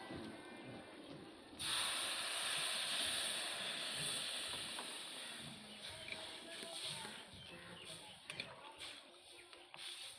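Water poured into a hot pot while cooking fish with elephant foot yam, bursting into a loud broad hiss that fades gradually, with faint background sounds afterward.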